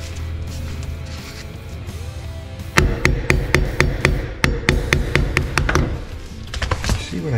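A hammer strikes a trailer wheel bearing hub during a bearing repack, about a dozen sharp metallic blows in a steady rhythm, loud and close over a low background hum.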